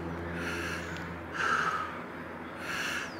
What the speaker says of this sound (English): Control the breathing.